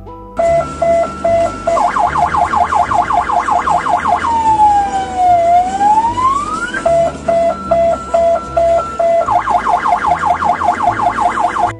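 A loud ambulance siren cycles through rapid warbling yelps, a slow rising-and-falling wail, then back to fast yelps, close and continuous.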